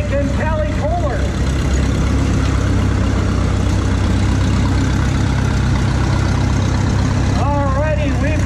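A 1925 McCormick-Deering 15-30 tractor engine rumbles steadily at a threshing show, a loud, constant low drone, while a voice announces over a loudspeaker at the start and end.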